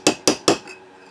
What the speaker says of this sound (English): You need to punch this pin down